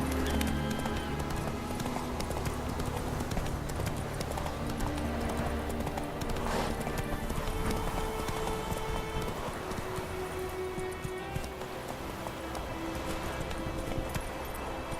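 Hoofbeats of Roach, Geralt's horse in The Witcher 3: Wild Hunt, gallop in a steady driving clip-clop rhythm over a loud, busy game soundscape with music, lasting throughout.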